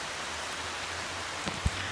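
Steady rain falls outdoors at a historic fortification, a soft even hiss of drops on surfaces with one brief closer thud near the end, no voices.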